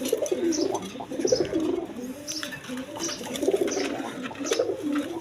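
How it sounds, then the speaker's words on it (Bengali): Red Gorra pigeons coo in low, rolling phrases that repeat through the clip, close and moderately loud, with a few faint chirps mixed in among the birds. "দেখেন রেড কালার গররা কবুতর"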